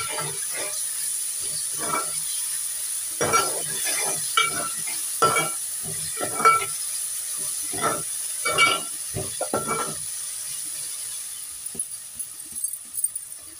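Chopped ginger frying in hot oil for a fish curry sizzles steadily, with repeated scraping stirs of a spoon in the pan close up.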